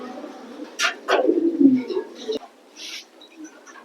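Pigeons in a loft coo in a few short, throaty bursts close by, with brief gaps and faint chirps between calls.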